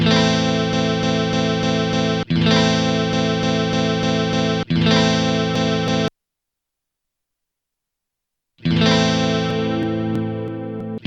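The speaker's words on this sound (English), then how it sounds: "Set a speed BB and the jump value AA, and you've got some kind of delay effect going on." PicoTracker tracker running a retrigger delay command, a dense synthetic tone repeating in steady chopped bursts, loud and processed with a distorted, chorused edge, cutting out to silence for a couple of seconds before resuming.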